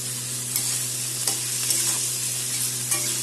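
Potatoes with black cumin fry in a pan for a raw tomato chorchori, a steady close sizzle broken by a few sharp clinks and scrapes as a spoon stirs them. No talking.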